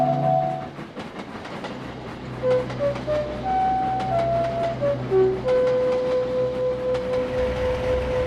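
A model engine pulls another engine along the rails, with steady rolling rumble and clickety-clack beneath a series of whistle-like tones that step in pitch before one long held note toward the end.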